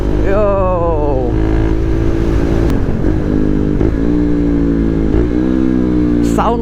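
KTM 390 Duke motorcycle fitted with a K&N air filter, its close engine and induction rising through revs, dropping and pulling again across several gear changes, with wind noise and a voice talking over it.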